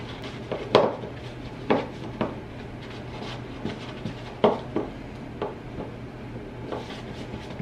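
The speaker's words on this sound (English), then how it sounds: "I'm just going to stir this together." A spoon stirring ingredients together in a bowl, giving a sparse series of distinct clinks and scrapes against the bowl at irregular intervals, fairly close and moderately quiet, with no talking.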